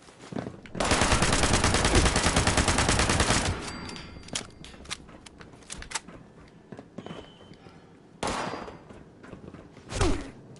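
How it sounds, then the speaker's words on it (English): Gunfire in the Fallout 76 video game: a dense, loud burst of rapid automatic shots for about three seconds, followed by scattered thuds and quieter shots, then another short burst and a sharp blast near the end. "I missed all those shots."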